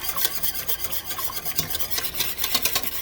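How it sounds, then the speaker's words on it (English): A whisk scrapes steadily around a pot as browning sauce is worked into oxtail gravy, a brisk rhythmic rasping and stirring heard alone and close. "Again, we just keep whisking."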